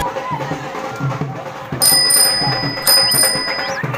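A bicycle bell rings twice with bright, metallic trills over busy background noise and faint chatter, each ring lingering briefly before fading.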